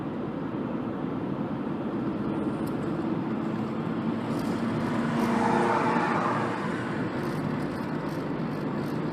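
Car engine and tyre roar while driving a busy paved mountain road between Huntsville and Ogden, Utah, with traffic queued behind; a steady close road rumble that swells slightly midway.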